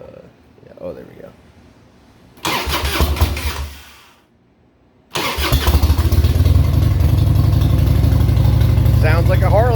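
A 1994 Harley-Davidson Softail Custom motorcycle engine cranks and catches twice, with a brief lull between, then settles into a loud, steady low rumble close by; a voice is heard faintly before the start.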